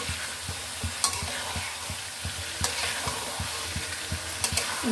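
Chicken pieces stirred and fried in hot oil in a pot, a steady close sizzle broken by regular scraping strokes of a spoon about twice a second, with a few sharper clinks.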